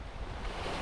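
Strong sea waves surge and wash in a steady broadband roar, moderately loud and unbroken over a brief moment, with no speech.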